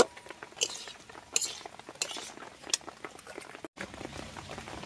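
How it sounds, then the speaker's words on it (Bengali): Fried potatoes are stirred into spice masala in a pan, with a spatula scraping and clinking against metal in uneven strokes over a soft sizzle, close and alone. "এবার দিয়ে দিচ্ছি ভেজে রাখা আলু। এবার একটু নাড়িয়ে চাড়িয়ে ভালো করে নেব।"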